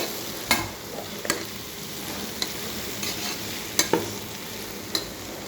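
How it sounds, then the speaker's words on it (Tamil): Spices tempering in hot oil for a tamarind cowpea kuzhambu, a steady close sizzle with a few sharp stirring clinks of a spoon against the pan. "குழம்புக்கு தாளிச்சிருக்கோம்"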